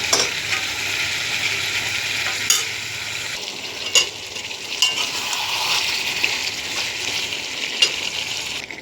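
Meat sautéing in a pan with ginger, garlic and onion, a steady sizzle with scraping stir strokes and occasional utensil knocks against the pot, close and continuous.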